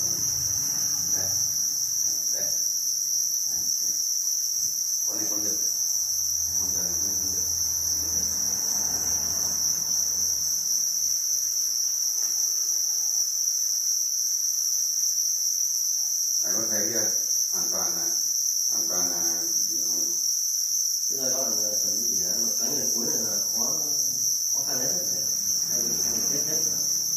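Crickets at a cricket-rearing farm chirp in a continuous, high, shrill trill that runs unbroken from start to finish, with intermittent voices and other noises underneath.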